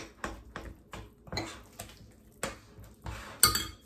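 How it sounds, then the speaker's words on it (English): Eggs cracked into red velvet cupcake batter in a bowl, heard as a run of sharp taps and knocks against the rim with small wet drips, close and alone. "you're going to go ahead and crack over your eggs."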